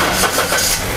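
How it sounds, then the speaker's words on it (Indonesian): A car engine turning over and catching during a CVT transmission oil flush with a DT-800R exchanger, a steady broadband mechanical rumble filling the whole short moment, close and fairly loud. "Oke, kita nyalakan mobilnya."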